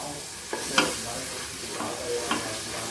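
Green chillies go into a frying chicken biryani masala, which sizzles steadily and close by, with a few brief stirring scrapes and clinks and no talking.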